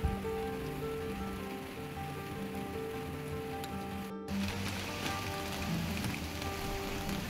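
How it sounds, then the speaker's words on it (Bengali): Heavy rain pours down steadily as a dense, continuous hiss of drops on surfaces, with a brief clunk partway through and no voices. "অমনি আবার ঝেঁপে বৃষ্টি পড়া স্টার্ট হয়ে গেল"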